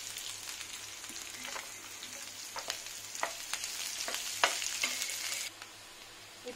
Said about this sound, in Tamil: சின்ன சின்னதா நறுக்கி வச்ச வெங்காயத்தை சேர்த்து நல்லா வதக்கிக்கலாம்